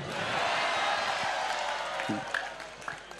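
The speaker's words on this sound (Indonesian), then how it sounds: "Tepuk tangan untuk beliau." Audience clapping and cheering at a humorous Islamic sermon by a kiai in Indonesia, a steady wash of applause from a crowd that slowly thins, with scattered louder claps near the end.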